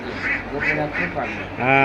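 Ducks quack repeatedly in a quick rhythmic series at a duck farm, fairly close, with a louder quack at the end.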